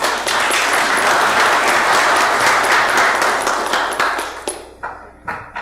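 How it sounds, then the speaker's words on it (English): A city council chamber fills with a steady round of applause for a council member's birthday, many people clapping together before it thins out into a few scattered final claps. "And then council, if we have a round of applause"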